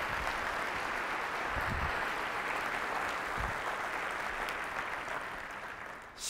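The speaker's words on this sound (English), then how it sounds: "Let's give him a round of applause" Audience applause at a district state-of-the-district event: dense, sustained clapping from a large crowd, loud and continuous for several seconds before beginning to thin at the end.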